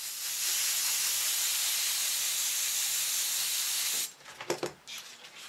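Continuous, steady hiss of air from an airbrush system blowing for several seconds, then cutting off into faint handling noises and small clicks.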